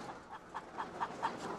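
Hens cluck in a steady, evenly spaced series inside a battery cage poultry building in Brittany, the calls soft and somewhat distant over a low indoor hum.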